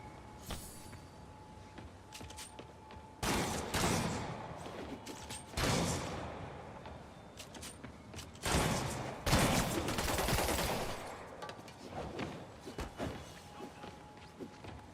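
Sniper rifle fire in Spider-Man Remastered, heard as several loud broadband bursts of shots and impacts spaced across the stretch, standing out over a steady game background hum with no talking.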